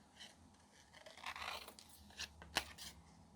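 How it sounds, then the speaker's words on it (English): Big scissors cutting through paper scraps at a craft desk, quiet close snipping and rustling with a sharper crunch near the end, no voices. "why am I using such big scissors?"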